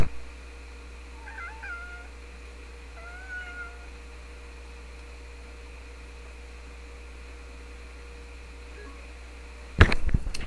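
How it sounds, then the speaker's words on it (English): A cat meows a few times in quick short calls, fairly close, over a steady low hum, followed by a brief burst of rustling handling noise at the end. "And there's her meow."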